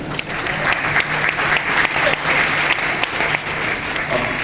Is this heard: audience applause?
yes